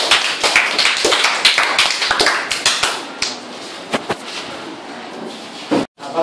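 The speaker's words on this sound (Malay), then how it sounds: "Oke, bagi tepukan lagi sekali." Scattered clapping from a small audience, sharp close hand claps that start fairly dense and then thin out into a few isolated claps before fading.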